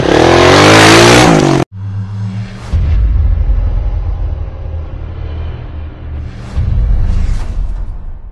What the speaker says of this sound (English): Let's start your engine.